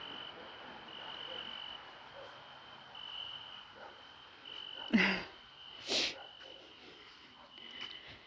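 Continuous high chirping of crickets in a quiet outdoor evening as light rain begins, steady and faint, interrupted by two brief louder noises.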